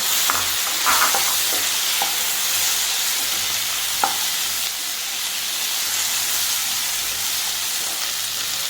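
Capsicum frying in a pan for chilli chicken, stirred with a spoon, giving a steady close sizzle and hiss with scattered scraping clinks, loudest early on, with no talk.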